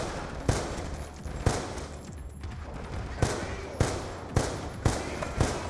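Gunfire in Call of Duty Black Ops 2 multiplayer, a series of sharp single shots spaced irregularly at moderate loudness, with a player talking over the game sounds.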